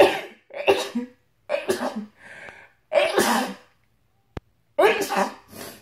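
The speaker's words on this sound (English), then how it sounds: "My sneezes come in multiples" Several sneezes and coughs come in a quick series, separated by short silences, with a sharp click near the end.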